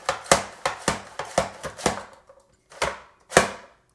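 A small white onion pushed through a Geoffrey Zakarian Safe Slice upright mandolin for burger rings, giving a run of sharp, rhythmic chopping clacks, about seven in quick succession, then a pause and two more; close and crisp, no voices.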